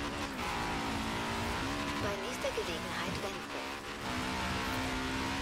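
A Trophy Truck drives straight ahead in Forza Horizon 4's LEGO expansion, its engine droning steadily with shifting pitch and a few rises, close and continuous for several seconds, with no talking.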